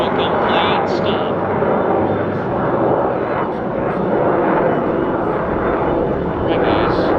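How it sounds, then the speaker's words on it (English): A Yak-110 display aircraft passes at an airshow, making a loud, sustained roaring drone that swells and holds for several seconds, with a crowd or commentator's voice mixed in. "Here comes the Yak again, and now the propellers will be completely stopped."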